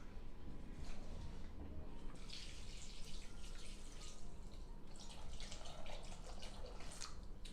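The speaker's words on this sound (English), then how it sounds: "we're gonna pour enough water in to cover those nuts." Water is poured from a tap or jug into a bowl of pecan nuts to soak them: a steady, close splashing stream that swells after a quieter start and continues throughout.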